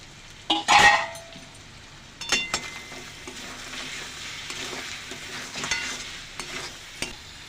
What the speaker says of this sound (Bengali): এবার ভেজে নেওয়া আলুগুলো এর মধ্যে আমি দিয়ে দিচ্ছি